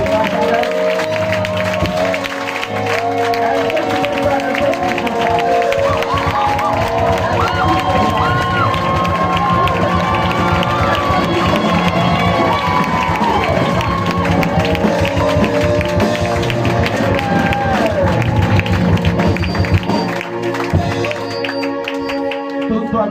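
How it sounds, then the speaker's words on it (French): A church congregation cheers and acclaims at a worship service, a dense, sustained roar of many voices with shouts and clapping that stays loud throughout before fading slightly at the end. "Je veux demander à toute l'assemblée d'acclamer le Seigneur Jésus."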